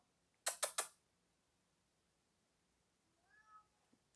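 A pet cat at a door gives a faint, short meow after a few sharp knocks or taps. Otherwise the room is quiet, with no talking.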